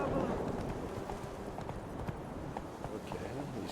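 Hooves of Roach, the horse in The Witcher 3, clip-clopping in a steady gallop rhythm under game ambience while a voice talks over it.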